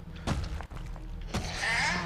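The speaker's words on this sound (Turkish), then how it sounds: "Pat pat pat ayak sesleri geliyor." A few dull footstep thuds in Resident Evil Village, spaced irregularly, with a soft rumbling background and a brief brighter rustle near the end.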